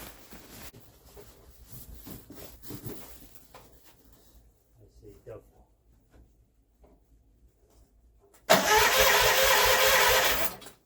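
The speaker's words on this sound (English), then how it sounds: "This tractor will start." Tractor engine starting: after several seconds of quiet clanking, a sudden loud, harsh burst of engine noise erupts and roars for about two seconds before cutting off.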